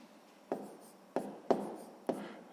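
A pen writing by hand on paper, with four distinct scratchy strokes spaced roughly half a second apart, close and fairly quiet with no voices.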